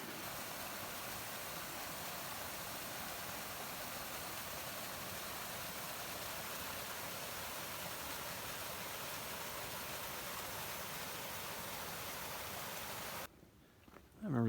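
Lost Creek stream and a small waterfall on a Mount Hood trail in Oregon, heard as a steady, broadband rush of falling water that continues for about thirteen seconds before cutting off abruptly.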